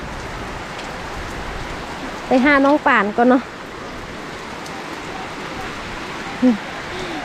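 Heavy storm rain pours steadily and loud across the whole stretch, a dense hiss of water on surfaces, while someone speaks briefly over it.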